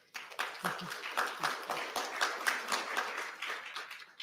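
An audience claps at a candidate forum in a hall, a sustained round of applause from a crowd that keeps a fairly even level throughout, moderately near.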